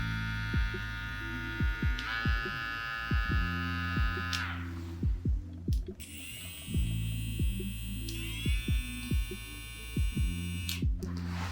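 JRL Ghost hair clippers run with a steady electric hum and buzz, close and quiet, while faint taps and clicks land on and around them in a loose rhythm and the pitch shifts slightly as they are handled.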